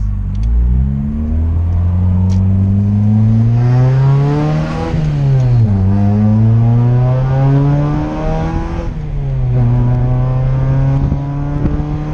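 A third-generation Honda Prelude accelerates through the gears with a close, steady engine drone. The pitch climbs, drops at each shift, then climbs again, with no talk over it.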